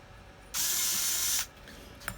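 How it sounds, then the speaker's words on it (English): A screw being driven in on an Uhlmann reel gives one close, sustained whirring buzz lasting about a second, then a faint click, with no voices. "And screw that in."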